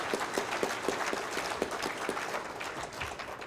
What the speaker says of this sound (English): I want to give them a huge round of applause for the work they're doing at the youth.